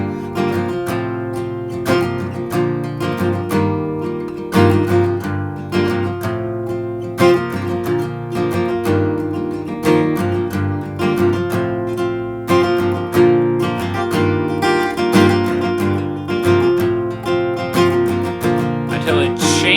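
Acoustic guitar strumming the chord progression of a song with a capo, in steady rhythmic strokes that repeat through a loop of four chords. It is close and clear with no singing or talk.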